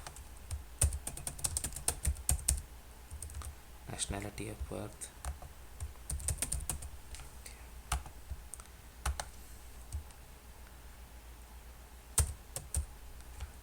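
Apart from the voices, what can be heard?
typing on a computer keyboard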